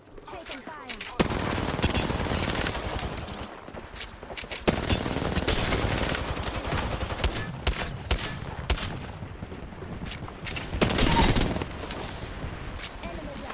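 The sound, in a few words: gunfire in a video game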